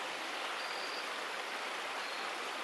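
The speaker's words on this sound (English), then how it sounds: "there's water falling a very short distance on both sides of me, making a little bit of noise" A small stream where water drops a very short distance over a slight fall on both sides, producing a faint, steady, even rushing hiss with no breaks.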